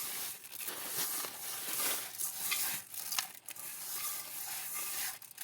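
Chanachur and chili being poured and stirred in a pan, giving a steady dry rustling, scraping stir with a faint sizzle underneath and occasional sharper crunchy clatters, close and continuous with no talking.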